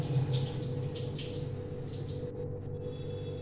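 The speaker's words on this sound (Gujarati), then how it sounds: "આનું હું પાણી કાઢી કાઢું છું" While kheer is being made, water is drained off with a soft, faint pouring and trickling sound over a steady low kitchen hum, dying away near the end.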